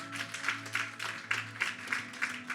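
A church congregation applauds in a steady rhythmic clapping pattern, moderately distant and even, over a low sustained background tone.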